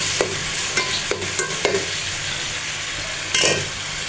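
Onions and tomatoes fry in a pot for a tinda (round gourd) curry: a steady close sizzle with several sharp scraping stirs of a spoon against the pot, and no talking.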